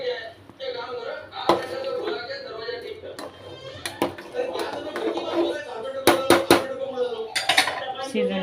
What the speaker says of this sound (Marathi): भात आपण मिक्स करून घेऊ